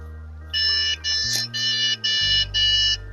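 Desktop PC with DDR4 RAM and a single memory stick failing to boot, its motherboard giving a series of five steady, shrill electronic beeps in an even rhythm over a low hum of fans.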